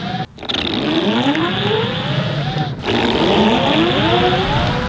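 A production Juiced electric board accelerating during a test run: a rising whine climbs steadily in pitch over steady road and wind rumble, dipping briefly before a second run builds again, loud and close with no talk.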